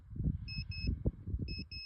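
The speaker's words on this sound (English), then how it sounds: "my Geiger counter just beeps, just walking on the tailings pile" A Geiger counter gives two pairs of short electronic beeps, evenly spaced, over low rumbling noise and footsteps on a uranium mine tailings pile near Nucla, Colorado.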